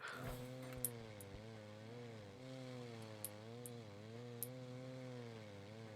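Continuous buzzing whine of a chainsaw engine in the video game R.E.P.O., its pitch rising and falling as it revs, with a few sharp clicks on top.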